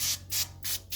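PB Blaster penetrating oil sprayed from an aerosol can onto a foggy car headlight, three short hissing bursts with brief gaps between them, close and fairly loud with no talking.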